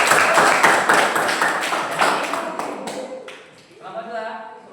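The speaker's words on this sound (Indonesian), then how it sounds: "tepuk tangan untuk kelompok 3" Clapping for a student group in a classroom, a fast burst of close, sharp handclaps that thins and fades, followed by a brief voice at the end.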